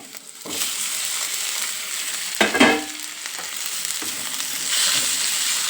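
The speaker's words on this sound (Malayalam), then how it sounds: "ഇനി ഇതുപോലെ ഇളക്കി ഈ എണ്ണയിൽ തന്നെ ഈ തക്കാളി കുക്കായി വരണം." Chopped tomatoes frying in oil over sautéed onions, a loud steady sizzle with a sharp stirring scrape midway, the hiss swelling again toward the end.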